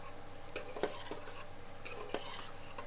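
Mutton keema with coriander powder is stirred in a pan, with soft scraping strokes and a few metal utensil clicks over a faint sizzle, close and quiet.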